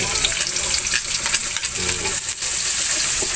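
Chopped onion and garlic sauté in hot oil in a pan, giving a loud, steady, close hiss and crackle with faint talk underneath.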